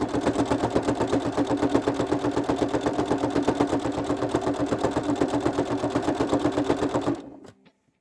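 A sewing machine zigzag-stitches jelly roll fabric strips together for a rug with a fast, even, rhythmic clatter. It is close and constant for about seven seconds, then winds down and stops.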